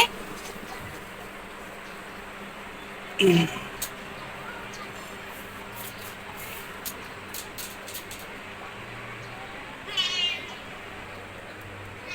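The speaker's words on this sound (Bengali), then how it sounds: "ওই দেখো কোথায় যেন বিড়াল ডাকছে" A cat meows somewhere nearby during rain, two short calls rising out of a steady background hiss, the first a bit louder than the later one.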